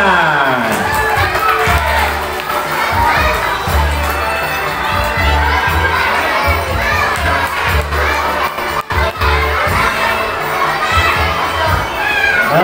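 Children at a school traditional costume contest for an independence month celebration shout and cheer loudly as a crowd, a dense, continuous roar of young voices filling the whole stretch.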